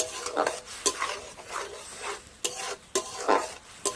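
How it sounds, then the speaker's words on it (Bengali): Bottle gourd paste is stirred in hot oil in a pan, giving soft scraping and stirring strokes with light clinks of the utensil, irregular and quiet. "তেলটা খুব ভালো মতো গরম হয়ে গেছে দিয়ে দিচ্ছি পেস্ট করা লাউ তেলটা দিয়ে লাউটাকে একটু নাড়াচাড়া করে নিলে"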